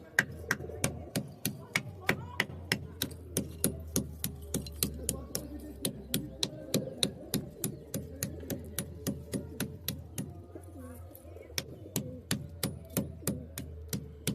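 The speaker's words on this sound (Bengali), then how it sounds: "একটা ইট নিলাম এরকম ছোটো মতন, দিয়ে এতে আস্তে আস্তে মেরে এটাকে গুঁড়ো করছি।" A small brick being struck lightly and crushed to powder, producing a steady stream of sharp, evenly spaced taps at about three per second, close and fairly quiet.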